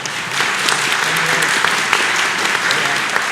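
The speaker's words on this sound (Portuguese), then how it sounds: "Eu queria uma salva de palmas para ele." Loud, steady applause from an audience at a tax forum, continuous dense clapping with faint voices underneath.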